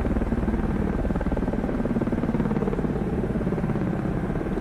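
Rotor aircraft launching from the carrier Admiral Kuznetsov in the video game Cold Waters, a loud steady rhythmic helicopter-like thrum that continues evenly throughout.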